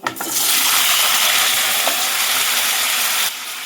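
Potatoes fry in hot oil seasoned with black cumin seeds, a loud, close, sustained sizzle that starts abruptly and then eases slightly near the end.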